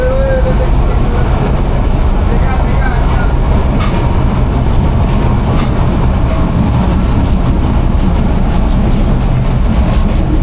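A moving train heard from inside a nearly empty passenger carriage: loud, constant rumble with rattling wheel and track noise throughout, no voices.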